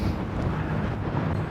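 Gusty wind on a mountain crag in the Lake District, a steady loud rumbling roar buffeting the microphone throughout with no clear pauses and no talk.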